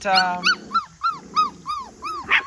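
A five-week-old puppy gives a rapid run of about seven high yips and whimpering barks, close and loud, each short and rising then falling, with brief gaps between them.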